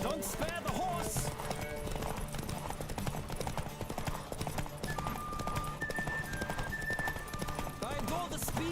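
Rapid hoofbeats of a galloping horse in The Witcher 3: Wild Hunt during a race, continuous and close, mixed with game music and brief spoken voices.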